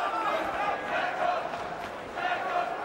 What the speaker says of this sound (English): Again, the fans cheer on Proksa